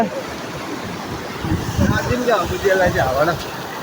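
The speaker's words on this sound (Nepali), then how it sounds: "यो अब यसो खोला तर्नुपर्छ" A flowing river stream heard steadily as a broad wash of water noise, with people talking over it in the second half.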